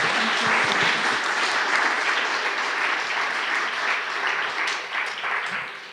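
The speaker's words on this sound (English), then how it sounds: "A round of applause for our panelists" A literature festival audience applauds a panel, steady dense clapping from many hands that holds strongly and tapers slightly near the end.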